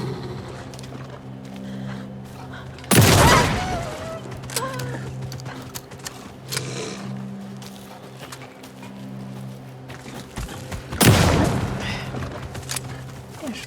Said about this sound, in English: stop using the shotgun